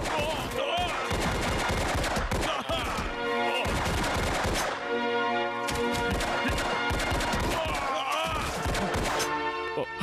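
Rapid bursts of gunfire crackle through a Hong Kong action film shootout, dense volleys and single shots repeating loudly over a busy score, with brief voices mixed in.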